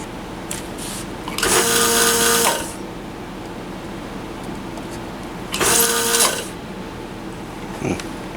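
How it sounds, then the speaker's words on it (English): Two whirring bursts, each about a second long, come from a desoldering tool's vacuum pump as it pulls solder from an old crystal on an RF test gear board. A small click follows near the end, and the room is otherwise quiet. "we'll go ahead and desolder the old crystal"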